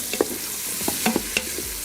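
Pre-cooked Philly cheesesteak meat warming in an Instant Pot, with a soft steady sizzle broken by several sharp scraping stir strokes and clinks close by.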